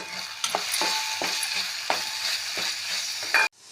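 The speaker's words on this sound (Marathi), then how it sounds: "मसाले छानपैकी मिसळून घेऊया" Ground spices fry and are stirred in a pan for a mixed vegetable bhaji, a continuous soft sizzle broken by regular scraping strokes of the spoon, close and moderately quiet, ending with a sharp clatter.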